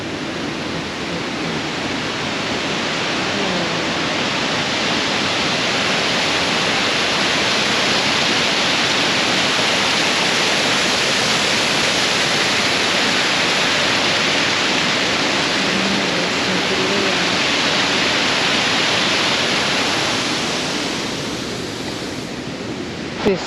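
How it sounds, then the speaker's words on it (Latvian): Keila waterfall in Estonia pours with a steady, loud, broadband roar of rushing water, close and unbroken throughout, with no voices. "Keilas ūdenskrituma"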